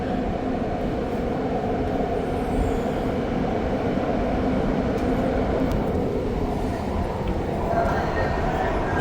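Steady rumbling and rattling inside a moving Deux-Montagnes test train on the REM line, Brossard to Central Station, with continuous low wheel and motor noise throughout.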